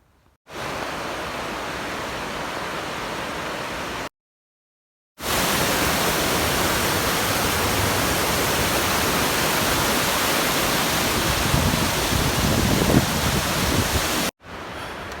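A river crossing on a Pacific Crest Trail section hike gives a loud, steady roar of rushing water, close by and continuous, broken by one brief silent gap.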